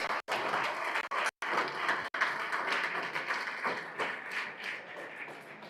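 An audience at a university conference inauguration bursts into applause after a presentation, a dense stretch of clapping broken by a few brief gaps, then tapering slightly toward the end.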